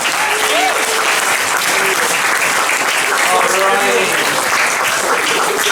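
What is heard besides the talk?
audience applause at comedy gig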